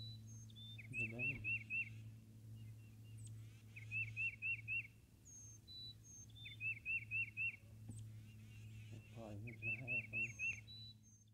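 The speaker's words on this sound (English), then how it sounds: "Freaking bird." Repeated chirping bird calls outdoors during a spring turkey hunt in Kentucky, bursts of tweets recurring every couple of seconds over a steady low hum, with faint voices nearby.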